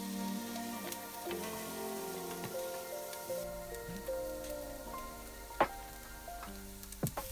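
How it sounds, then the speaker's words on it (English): Chopped onions fry in oil for a Lebanese spinach stew, giving a soft, steady sizzle with scattered light ticks and pops, close and alone. "keep frying the onions until they turn translucent"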